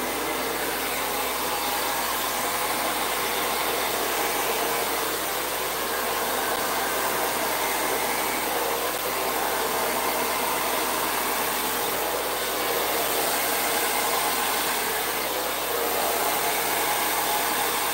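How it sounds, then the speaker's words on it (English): A hair dryer blows steadily on wet acrylic paint during a pouring session, a continuous loud whooshing hum that holds even and unbroken from start to finish. "You can use hair dryers with heat, but it will slowly start to dry the paint as you go"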